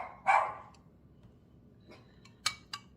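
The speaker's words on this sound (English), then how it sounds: "You know, the dog's barking." A dog gives one sharp, fairly close bark indoors, followed by a couple of faint clinks like dishes or small objects against a quiet background hum.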